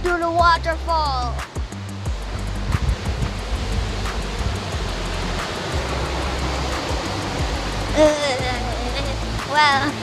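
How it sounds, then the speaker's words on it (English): Rhine Falls, Europe's largest waterfall, seen up close: a constant broad rushing roar fills the air, with voices briefly heard over it. "let's go even more closer to the waterfall"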